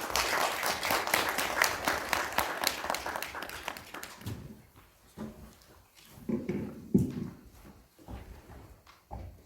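Applause from a modest audience at a discussion forum after a professor's presentation, a few seconds of brisk clapping that thins into scattered claps and taps.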